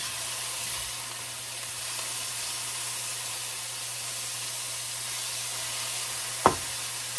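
Beef tips brown in a pan with a continuous, even sizzle and hiss that holds for several seconds, then a single sharp clack near the end.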